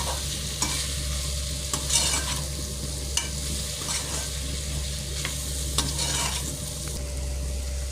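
Steady sizzling of raw potatoes frying in a pan, with repeated scraping stirs of a utensil every second or so; no voices.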